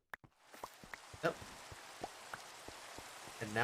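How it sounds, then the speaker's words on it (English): Steady hiss of rain falling in Minecraft, a soft continuous patter with scattered louder drops and faint clicks, fairly quiet and heard alone. "And now it's raining."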